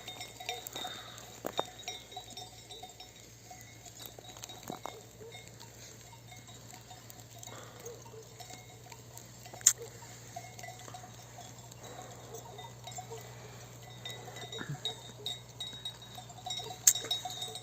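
Yearling sheep grazing in an alfalfa field, heard faintly as scattered bell clinks and soft, sparse bleats over a low steady hum in a quiet open setting.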